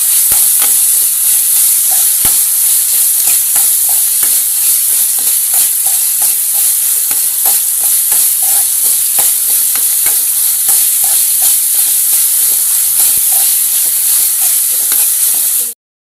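Onions and two green chillies fry in oil in a pan for a prawn roast while being stirred, giving a loud, steady, close-up hiss and sizzle with faint scraping ticks throughout, cutting off abruptly at the end.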